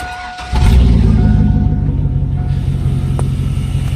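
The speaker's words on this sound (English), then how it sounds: "Just slapped this battery in it, hooked up some cables. I'm about to see if she starts." A Honda car engine fitted with a new battery turns over and catches, settling into a steady low rumbling idle that stays loud and close throughout, with no voices.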